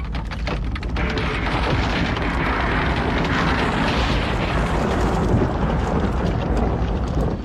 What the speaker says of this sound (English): The soldiers pull down houses and blow up shops.